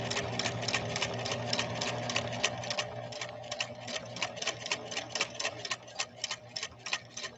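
A Husqvarna Viking sewing machine runs an overlay stitch with a steady, fast mechanical ticking and a low motor hum. The needle's beat grows more distinct and punchy toward the end, close up, with no voices.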